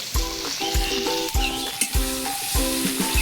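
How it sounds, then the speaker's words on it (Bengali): A spice paste with turmeric, chili powder, sugar and salt sizzles in a pan while a utensil stirs it in a regular rhythm, each scrape thudding against the pan over a continuous close frying hiss, no voices. "নেড়ে চেড়ে আমি একটু সামান্য জল দেবো, নাহলে মশলাটা পুড়ে যাবে। মশলাটা আমি ভালো করে কষিয়ে নেবো।"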